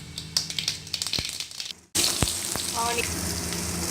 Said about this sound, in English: With oil, now we can add mustard seeds